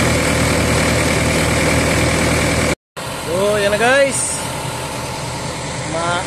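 An SK220-10 excavator idles steadily after a fuel injector repair, a constant diesel drone that cuts out briefly and then resumes, with someone talking over it.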